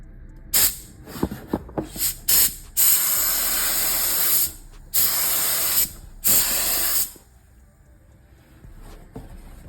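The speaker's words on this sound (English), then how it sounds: "Just a little spray." Several short bursts of aerosol paint spray hiss on a 1987 Monte Carlo SS, then two long sustained sprays, close and loud, with quiet gaps between.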